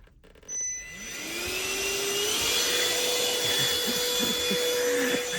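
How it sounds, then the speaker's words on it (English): A Hoover vacuum cleaner switches on with a thump, then its motor whines upward in pitch and settles into a loud, steady roar with scraping and rubbing sounds over it. "last but not least, use our trusty Hoover, which I'm having trouble getting up"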